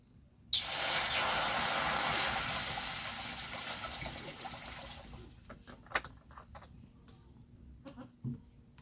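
Water poured into a hot kadai for boiling chicken, a sudden loud hiss and spray that holds steady for several seconds, then fades into scattered crackles and light clinks.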